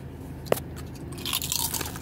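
A single sharp crunch of a bite into crispy potato chips coated in sriracha and honey, close and loud, followed by softer chewing and rustling.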